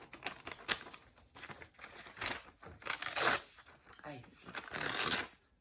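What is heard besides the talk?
cutting a large sheet of paper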